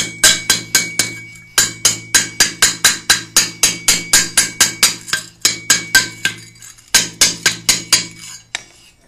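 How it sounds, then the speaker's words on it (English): Rounded hammer pounding metal at a tool repair workshop, about thirty loud, ringing strikes in a fast steady rhythm, close up, broken by a couple of short pauses. "For this kind of thing, it's good to use a rounded hammer."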